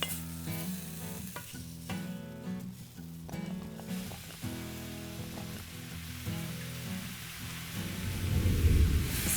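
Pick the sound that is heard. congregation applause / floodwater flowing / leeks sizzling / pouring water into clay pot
leeks sizzling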